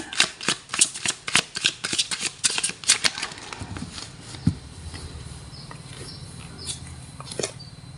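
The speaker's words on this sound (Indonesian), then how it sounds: "saya shuffle kartunya" A deck of tarot cards is shuffled by hand in a rapid run of crisp riffling snaps that thin out into softer, scattered card rustles.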